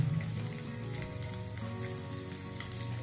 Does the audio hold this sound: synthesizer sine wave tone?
no